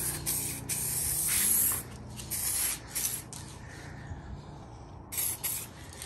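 An aerosol spray paint can hisses out even coats in an at-home paint job, with several close, loud bursts of a second or two separated by short breaks, and no one speaks.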